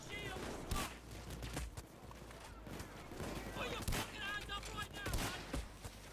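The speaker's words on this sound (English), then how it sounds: "Where did I just get sniped from?" A sniper shot in a heist video game amid scattered gunfire: sharp, separated cracks at irregular intervals, with speech and game chatter mixed underneath.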